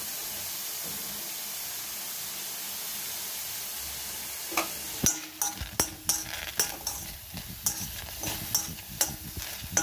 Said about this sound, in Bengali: এবার এটা আমাকে যতক্ষণই নাড়তে হবে, যতক্ষণ না টমেটোটা একদম সিদ্ধ না হয়ে যায়